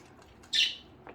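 Budgies give one loud, near squawking chirp, followed a moment later by a fainter short call, with quiet ambient background around them.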